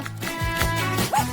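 A small dog gives a few short, soft vocal whines and yips close by, with light rustling in the background.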